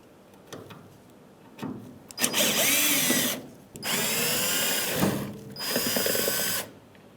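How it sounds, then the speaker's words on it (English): A power drill backs Phillips screws out of the taillight on a 1992-1996 Ford F-150, whirring in three distinct bursts of about a second each, separated by brief pauses and faint handling clicks. "I'm going to take out those two screws."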